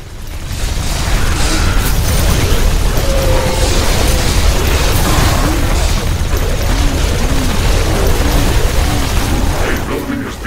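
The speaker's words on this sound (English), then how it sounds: "A building has been destroyed." A building collapsing under attack in the video game The Riftbreaker: a loud, continuous roar of blasts, rumbling booms and mechanical clatter that fills the whole stretch, with a faint voice underneath.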